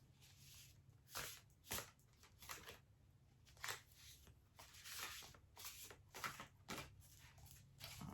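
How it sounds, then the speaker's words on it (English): Tarot cards riffled and shuffled by hand in a series of soft, papery bursts, close and quiet, with brief pauses between. "I like the challenge of shuffling these though."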